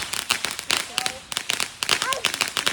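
Fireworks burst from a burning pallet at a Fourth of July celebration, giving rapid, loud crackling pops and sharp bangs in dense clusters, with brief whistling tones mixed in and voices in the background.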